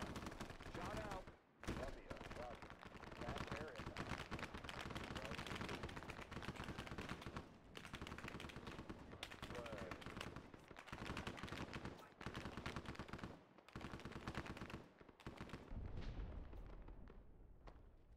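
A full-battery artillery fire mission in a military video game unleashes a dense, sustained barrage of rapid gunfire and booming shots, loud and nearly continuous with a few brief gaps.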